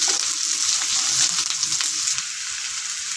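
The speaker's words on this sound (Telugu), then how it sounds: "చూడండి, ఇప్పుడు ఆనియన్ అంతా ఫ్రై అయింది." Finely chopped onions and green chillies fry in a pan with a continuous bright sizzle and a few stirring scrapes, loud and close, with no voices, for a simple mutton fry.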